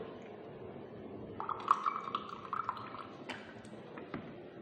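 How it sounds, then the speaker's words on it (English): Water drips and trickles as a conductivity electrode is rinsed, soft and close, with faint glassy clinks and a brief thin ringing tone partway through. "So again I will wash the electrode."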